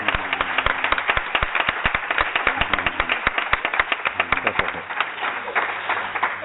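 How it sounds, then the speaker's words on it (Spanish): Audience applause at a round-table panel on cinema and inclusion at an academic congress, dense steady clapping from a seated crowd lasting several seconds with sharp individual claps standing out. "vamos a darle un aplauso, por favor, a Bertoni, que está ahí."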